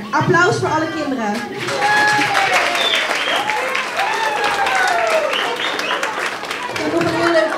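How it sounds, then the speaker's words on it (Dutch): Children and adults applaud at a community music event in Rotterdam, with a burst of clapping mixed with excited high-pitched children's shouts and voices running throughout. "Applaus voor alle kinderen."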